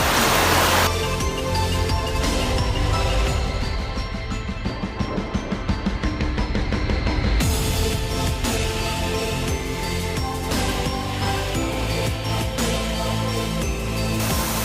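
The Manyava waterfall in the Ukrainian Carpathians, reached on a hiking trip, gives off a dense, continuous roar of falling water, close and loud throughout with no voices.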